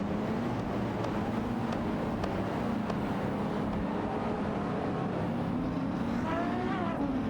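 Racing cars in a video game, a Peugeot 207 GTI and an Infiniti Q50, drone and whine at steady, loud full throttle, with engine tones shifting slightly as they run close together.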